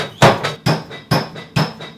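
Hammer blows on hot Damascus steel with borax flux, four sharp, evenly spaced ringing strikes close by, each followed by a short metallic decay.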